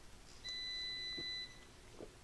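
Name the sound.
electronic beeping in background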